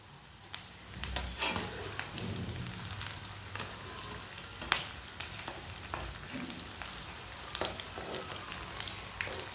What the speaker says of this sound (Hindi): अब ये वाली साइड से भी 2 मिनट के लिए फ्राई होने देते हैं।